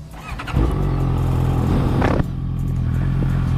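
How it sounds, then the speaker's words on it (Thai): A Honda CBR650F motorcycle engine cranks and catches, settling into a steady low idle rumble with a brief rev burst partway through, close by. "เครื่องยนต์สตาร์ท"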